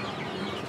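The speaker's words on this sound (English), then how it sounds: "This is one of several live bird markets where samples from chickens and ducks are collected." Chickens cluck in a dense, busy chorus at a live bird market where chickens and ducks are kept, heard as a brief, loud, continuous burst of fowl noise.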